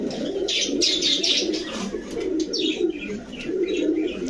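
Giribaz pigeons coo in repeated soft, throaty phrases, several birds close by, with faint chirps and wing rustles mixed in.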